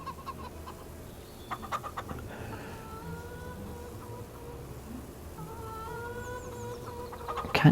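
Chickens cluck in an open pasture in the farming video game Farming Simulator 25, moderate and repeated over steady low ambient game noise, with occasional taps.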